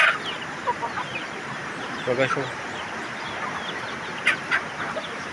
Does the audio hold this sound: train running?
no